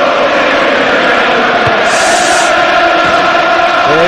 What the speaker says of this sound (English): listen to the reaction from the crowd here